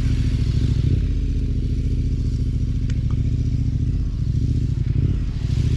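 A motorcycle on Mitas E07 tyres leaned hard through tight turns, its engine holding a loud, steady low drone near the listener with slight dips in pitch and faint clatter throughout.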